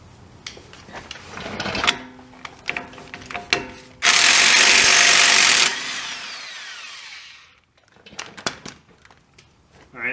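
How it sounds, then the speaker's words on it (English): An impact wrench with a 32mm socket hammers at a front wheel stud nut on a 2002 Honda Civic Si EP3, giving loud close bursts of rattling impacts broken by a sustained high whir, then clicks and handling noises. "I'm going to use my 32mm, and I'm going to use an impact."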